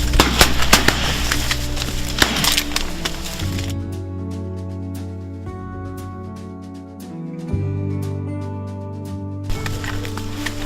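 Shotgun shots ring out during a duck hunt near Jamestown, North Dakota, as a burst of sharp, loud blasts. A brief volley of cracks follows, mixed with tonal calls in the background.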